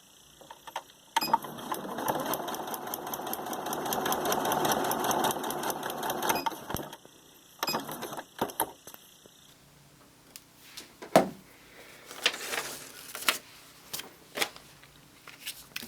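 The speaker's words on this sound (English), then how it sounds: "sew along that line between 1 and 2. So we'll move over to the sewing machine" A sewing machine stitching fabric for foundation paper piecing runs in a steady rapid whir for several seconds, then stops, followed by quieter handling clicks and taps.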